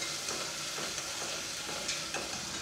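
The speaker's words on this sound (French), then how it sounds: "Je vais faire sauter les oignons et l'ail jusqu'à ce qu'ils dégagent un parfum agréable." Onions and garlic sautéing in a pan for a Vietnamese-style dish, a steady close sizzle with faint stirring scrapes throughout, no talk.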